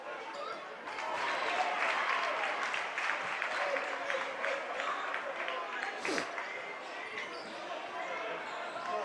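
Spectators in a gym applauding at a boys high school basketball game, steady clapping and cheering that swells after a second and carries on, with shoe squeaks and a commentator talking over it.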